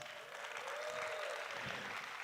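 Audience at a vivo X300 Ultra launch event applauding, a dense steady clapping from a crowd with a faint tone running underneath.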